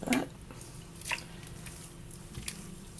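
Wet wool fleece is lowered back into hot water dyed with food colouring, giving soft squelches, a few drips and small splashes. One sharper wet slap comes at the start and lighter splashes follow, with no talking.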